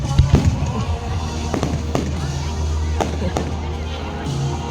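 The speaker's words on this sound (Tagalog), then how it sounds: "May pa-fireworks si Mayor." A mayor's birthday fireworks show, with repeated booming bursts and crackles rolling through a dense, loud rumble, a crowd murmuring and voices talking underneath.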